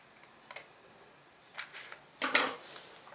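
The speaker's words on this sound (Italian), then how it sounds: "a questo punto facciamo un taglio qui in mezzo" A paper heart being cut with scissors in a papercraft setting, a few faint, crisp snips followed by a louder burst of rustling cuts close by, with no talking.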